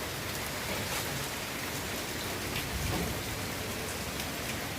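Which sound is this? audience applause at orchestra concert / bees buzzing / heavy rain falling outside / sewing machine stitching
heavy rain falling outside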